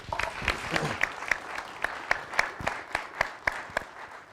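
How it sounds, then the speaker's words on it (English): A small crowd claps steadily for several seconds, a light, even patter of applause at moderate distance. "Let's give Misty a round of applause."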